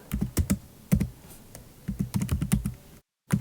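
Rapid bursts of typing on a computer keyboard while entering JavaScript code, close crisp key clicks in uneven clusters with short pauses and a brief silent gap near the end.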